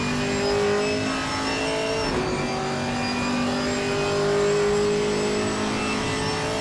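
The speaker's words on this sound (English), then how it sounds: "There is the Porsche going down the inside of the Tosa hairpin." A Porsche GT3 race car engine at Imola, heard near the Tosa hairpin, holds a steady loud drone with a brief dip in pitch as it goes through the corner.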